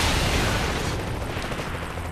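RPG rocket explosions in the video game Saints Row 3 roar as a thick, sustained blast of noise and rumble that slowly thins out, with no voices over it.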